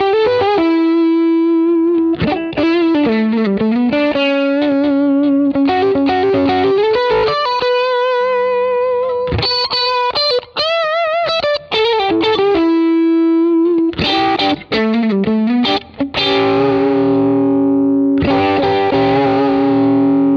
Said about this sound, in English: Let's hear what this attack shape control does. I'll start it smooth and I'll move it all the way up to edge.